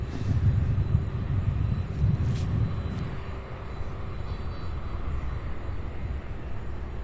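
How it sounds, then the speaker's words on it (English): A Boeing 767 taxis at Louisville's SDF airport, its steady low jet-engine rumble and broad hiss holding throughout, louder in the first few seconds, with no talk. "So we have a 767 taxiing now."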